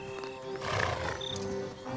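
A horse in a Dutch fairy tale audio story neighs loudly and at length, a close, shrill whinny rising and falling over about two seconds, with no talk over it.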